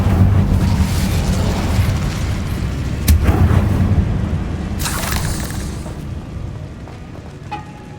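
Incendio fire spell blasting a barricade in the Hogwarts Legacy video game: a deep booming burst with rumbling debris, followed by a second whooshing flare and a fading crackle.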